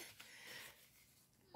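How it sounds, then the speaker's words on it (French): A single loud, abrupt sneeze bursts out at the very end after a stretch of near silence and faint breathy noise. "Je vais éternuer."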